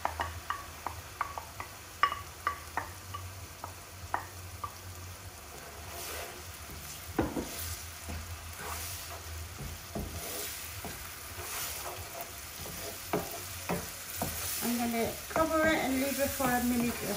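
Homemade tomato puree made from two tomatoes sizzles and fries in a hot pan while cooking chicken jalfrezi, British Indian restaurant style, with steady crackling broken by sharp clinks and stirring scrapes, growing busier toward the end.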